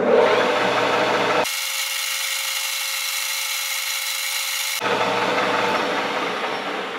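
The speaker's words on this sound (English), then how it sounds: "I'm just going to put a little chamfer on it." A metal lathe cuts a chamfer on a small metal part for a Mikuni VM carburetor fuel level tool, spinning near 1000 RPM. It gives a steady, loud grinding whir that shifts tone midway as the cut changes, with no voices.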